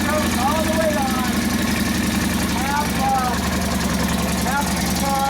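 A 1942 Harley-Davidson WLA 45ci flathead sidevalve engine runs steadily at full throttle in first gear, a continuous loud rumbling drone throughout with a voice speaking over it.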